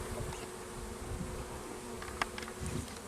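Honey bees buzz in a dense, steady drone at close range as the frames of a weak hive are inspected, with a couple of faint clicks of handling.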